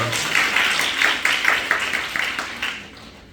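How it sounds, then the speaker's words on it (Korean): A small audience at a team presentation during a Korean tech conference claps in an uneven, moderately loud patter that thins out and fades toward the end. "네, 다들 박수 한 번씩 부탁드리겠습니다."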